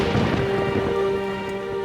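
Steady heavy rain on a stormy night, a dense continuous roar with a low rumble of thunder underneath, with no other sounds.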